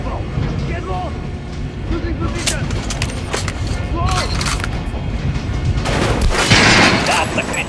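Gunfire in the video game Metro Last Light, repeated shots at an armored enemy popping over game music and effects, with a voice talking throughout.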